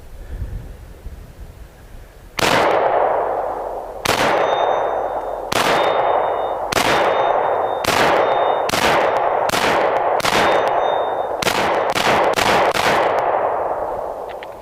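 A Ruger P95 9mm pistol fires about a dozen loud, sharp gunshots, first spaced and then in quicker succession, each ringing out with a metallic tail, and no one talks.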